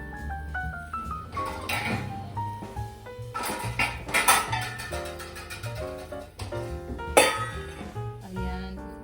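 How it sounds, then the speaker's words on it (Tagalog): A metal lid is set on a pot of boiling yellowfin tuna broth, giving a couple of sharp clinks and clatters heard under continuous background music. "So, tatakpan ko muna itong aking pinapakuluan."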